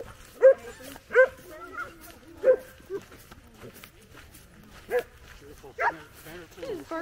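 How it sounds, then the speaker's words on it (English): Several short dog barks sound at uneven intervals in a snowy winter woods in Ontario, mid-distance and moderately loud, with people talking and greeting nearby. "barking at the Snoopy dog."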